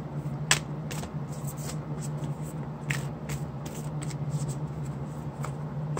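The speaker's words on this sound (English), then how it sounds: "Oh, I got a lot of shifty cards today. Might be the angle with which I'm shuffling." Soft, repeated riffling and flicking of oracle cards being shuffled by hand, close and fairly quiet, with a steady low hum underneath.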